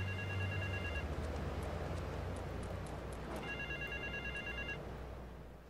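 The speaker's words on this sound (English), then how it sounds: "Is that a phone?" An in-game telephone rings in Grand Theft Auto 3, two long bursts of electronic ringing separated by a gap, set over a low background hum with no talk.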